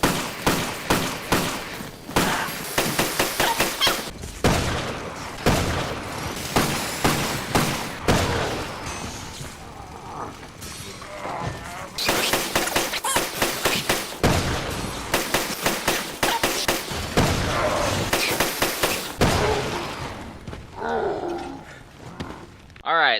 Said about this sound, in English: let's test the Python out on Mutant Pedro